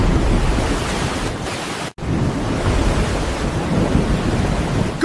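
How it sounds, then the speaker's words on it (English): Cartoon rain and thunder effect: a loud rumbling roll of thunder over steady heavy rain, briefly cut off to silence partway before the downpour resumes. "Wow, it's raining again."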